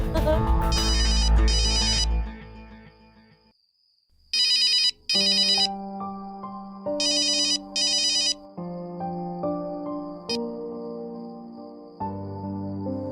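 A phone ringtone chirps in two short bursts over music, then rings in further repeated bursts as the melody continues underneath.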